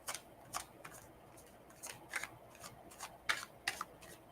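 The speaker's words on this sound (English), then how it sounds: "I was just called to grab the deck and start shuffling." A deck of playing cards is shuffled by hand, giving a series of soft, close riffling bursts and snaps at irregular intervals over a quiet background, with no talking.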